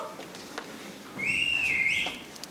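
A clear, high whistle that slides upward and holds for about a second, standing alone against quiet background noise.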